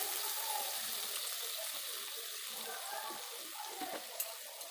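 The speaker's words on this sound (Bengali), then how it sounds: "ছিটিয়ে ভালো করে এটাকে কষিয়ে নেব" Spiced masala for a village-style catla fish curry frying in a pan with a splash of water, a continuous bright hiss and sizzle close up, fairly even and faint, with a small clink near the end.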